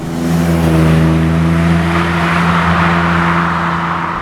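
The hot-rod Datsun 280Z's engine is revving hard and loud up close, with strong harmonic tones that hold steady, then settle through a tight, quick gear change.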